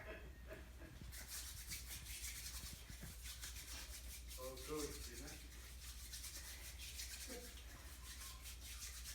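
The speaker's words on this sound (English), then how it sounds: "I'm just covering all surfaces and rubbing my hands together until they're dry" Hands rubbing together with sanitizer, a soft continuous friction swish that runs nearly steadily under a low background hum, close and fairly quiet.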